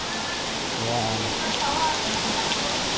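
Water from the waterfall at Bird Paradise in Singapore pours in a continuous hissing rush, like heavy rain, filling the scene at a steady level, with a brief voice heard once over it.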